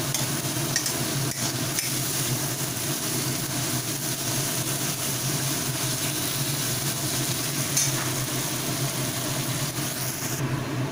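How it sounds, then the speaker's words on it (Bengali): Tomatoes and spices sauté and soften in a pan for an egg curry, a continuous close, loud sizzle with steady stirring and a low background hum throughout. "টমেটোগুলোকে সটে হতে দিচ্ছি টমেটোগুলোকে নরম হতে দিচ্ছি এবং সাথে সাথে মশলাটাও ভালোভাবে কষে নিতে দিচ্ছি"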